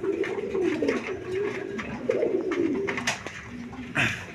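A pair of coloured Golla pigeons coo close by in soft, low, rolling bursts that repeat over a faint background murmur.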